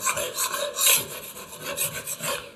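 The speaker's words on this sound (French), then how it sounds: "je vais d'abord passer un coup de riflard" Wide scraper blade held flat and scraped repeatedly across filler on a wall after tiles were removed, a rhythmic series of rough, close rasping strokes.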